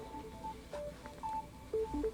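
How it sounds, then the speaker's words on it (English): A mobile phone goes off quietly amid game audio, giving a series of short electronic beeps at shifting pitches over about two seconds. "Got my phone going off."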